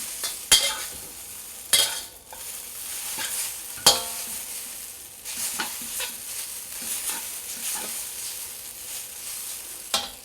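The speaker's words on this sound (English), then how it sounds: "you want to just stir the noodles around and break them up" Noodles stirred in a hot wok, a loud sizzle broken by sharp metallic scrapes and clanks of the utensil against the pan at irregular intervals, close and without talking.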